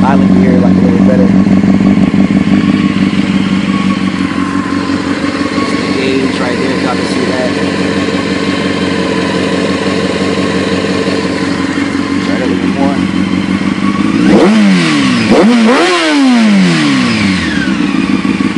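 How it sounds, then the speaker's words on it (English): A motorcycle engine idles with a loud, low rumble, then revs up sharply a couple of times near the end; a voice talks over it. "I'm going to go ahead and rev it up real quick. Let y'all hear it."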